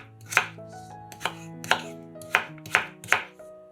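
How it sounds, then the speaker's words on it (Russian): A knife chops peeled potatoes into cubes for a zucchini soup, six sharp, close thuds against the cutting board at an unhurried, slightly uneven pace, with no talking. "Картошку тоже нарезаем кубиками."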